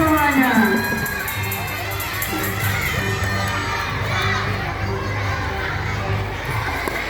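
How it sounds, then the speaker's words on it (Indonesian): A crowd of children at an Isra Mi'raj religious gathering cheers and shouts together, loud and sustained, with excited voices over a busy, echoing room tone for several seconds. "Tepuk tangan untuk kita semuanya."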